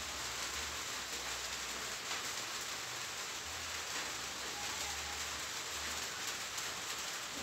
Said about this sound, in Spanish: por eso de que está lloviendo